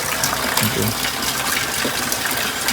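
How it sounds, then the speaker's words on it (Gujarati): Steady rain falls outside at night, a dense continuous hiss of water with a few brief louder splashes, fairly close and even throughout. "વરસાદ ચાલુ છે બહાર જવાનો ટાઈમ મળે એમ લાગતો નથી."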